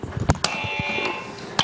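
A buzzer sounds on a televised courtroom show, a steady electronic tone lasting about a second, bracketed by sharp clicks and knocks in a quiet room.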